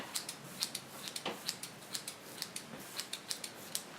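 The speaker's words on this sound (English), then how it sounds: "So with the scissors, I just cut off the bits of hair that are fraying" Scissors snip off frayed hair from a box braid in quick, light, evenly spaced clicks, about a dozen cuts at close range. The snipping is soft, with no talking.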